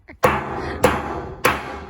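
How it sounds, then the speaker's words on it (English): A hammer striking a can of Campbell's soup, three sharp metallic thuds spaced evenly about half a second apart, close and loud, each ringing briefly before the next blow. "Use your hammer."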